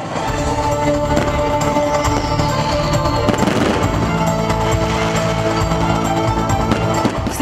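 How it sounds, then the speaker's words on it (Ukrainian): A grand fireworks display closes a city anniversary celebration in Khust, Transcarpathia. Dense, rapid crackling and popping bursts roll on continuously, loud and close, over steady tonal background sound. "Завершальним акордом святкував став грандіозний феєрверк."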